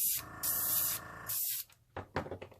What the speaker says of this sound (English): I'm not facing the airbrush away from the puddle of paint.